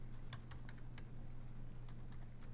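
Code is typed on a computer keyboard in quick, light clicks, close up over a steady low hum, with no voices.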